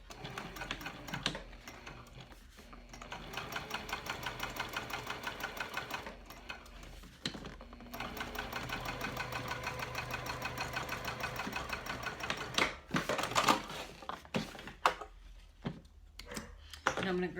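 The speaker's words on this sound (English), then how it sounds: "So I'm top stitching 1/8 of an inch from the seam" Topstitching runs along a backpack seam on a sewing machine, a quiet rapid stitching whir in several bursts with short pauses between runs.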